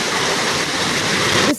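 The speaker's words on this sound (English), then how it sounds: "The center of Moscow is flooded." Floodwater rushes through the streets of central Moscow as a loud, continuous roaring wash of water that stays steady and close before cutting off abruptly at the end.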